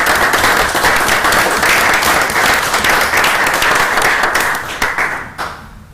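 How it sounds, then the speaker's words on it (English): A room at a city council meeting breaks into loud, sustained applause for a retiring community figure, dense clapping from many hands that fades out quickly at the end. "Deserves some applause."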